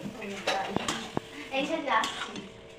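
Soaked, drained rice is stirred in a metal pot, producing scraping and a couple of sharp clinks of the spoon against the pot, with people talking throughout.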